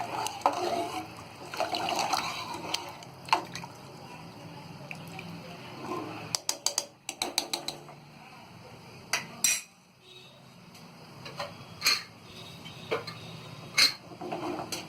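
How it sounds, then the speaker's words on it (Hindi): Sambar being stirred in a pot, with intermittent metal clinks and scrapes of a spoon against the vessel, some bursts close and sharp, separated by quieter stretches of low liquid sloshing. "और इसे अच्छी तरह चला लेंगे"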